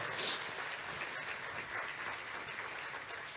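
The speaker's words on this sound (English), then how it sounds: "can you please give a round of applause to the schools now?" A short burst of steady crowd applause, fairly even and moderately loud throughout.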